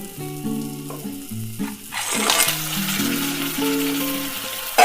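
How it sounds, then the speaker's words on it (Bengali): Crab pieces drop into spiced oil masala and fry, the sizzle surging to a loud, steady hiss partway through while a simple melodic tune plays along. "মশলাটা থেকে তেল ছেড়ে আসবে তখন আমি এই মশলাটার ভিতরে আগে থেকে কেটে ধুয়ে রাখা সেই কাঁকড়াগুলিকে দিয়ে দেবো"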